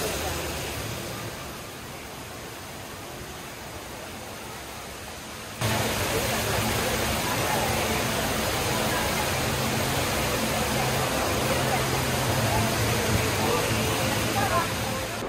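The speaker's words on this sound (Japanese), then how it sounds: "そこまでつながっている滝でございます" Indoor waterfall at Jewel Changi Airport in Singapore, falling from an upper floor down to the basement, gives a broad, steady rushing roar that grows louder midway, with a crowded indoor concourse around it.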